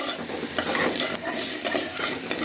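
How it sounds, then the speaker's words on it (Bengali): Whole spices fry loudly in a pan and are briskly stirred, making a dense, close sizzle broken by rhythmic scraping strokes, with no one talking. "মশলাটা দেখো আমাদের একদম খুব ভালোভাবে ভাজা হয়ে গেছে"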